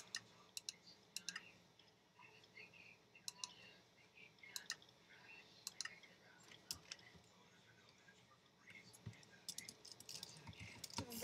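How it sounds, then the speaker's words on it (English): Scattered keyboard key clicks on a PC keyboard, typed in short irregular bursts at low level, with soft voice sounds in the background. "I'm just gonna type something random."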